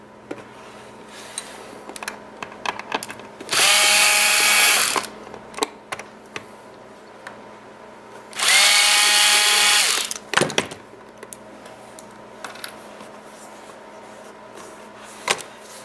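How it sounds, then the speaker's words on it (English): Two loud bursts from a power drill removing 10-24 screws with washers, each whirring for over a second, with quiet clicks and handling noises between them. "take our speed drill and pull these 1024s out with the 3/4 inch washers"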